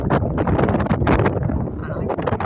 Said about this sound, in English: The main problem today isn't the rain so much as the wind, and there are gusts of wind.